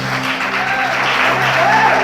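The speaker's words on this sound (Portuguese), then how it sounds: "Quantos podem dar um aplauso bem forte à palavra de Deus?" A church congregation claps loudly together during a Portuguese-language worship service, a dense continuous wash of applause over a low sustained musical drone.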